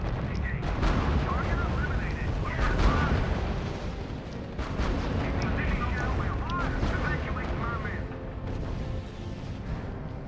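Artillery and gunfire from the WWII strategy game R.U.S.E. form a dense, continuous barrage of booms and cracks that stays loud throughout, with voices talking over it.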